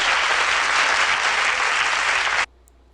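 A sustained round of loud, dense clapping and cheering from a crowd for Lil Tecca on a podcast, holding steady for over two seconds before cutting off abruptly into near silence.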